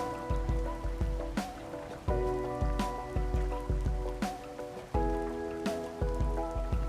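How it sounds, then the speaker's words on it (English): Rain falling in the video game A Hat in Time, a steady dense patter over a pulsing musical backdrop with recurring soft thumps, no talking. "The rain makes it a little bit hard to see."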